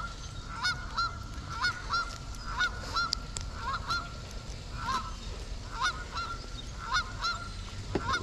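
A noisy flock of hungry geese at a lake honks repeatedly, overlapping calls coming in bursts over a steady outdoor rumble.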